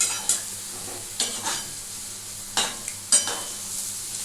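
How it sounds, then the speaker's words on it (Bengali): Palm fruit fritters (taler bora) fry in oil with a soft, low sizzle, broken by a few sharp clinks and scrapes from the utensils. No voices. "এটাকে আর একটুখানি একটু ভাজি।"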